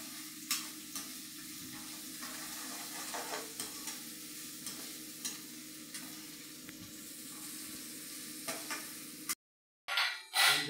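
Curry simmering in a pan over a low stove flame, with steady soft sizzling and bubbling, occasional light stirring clinks, and a brief louder scrape near the end.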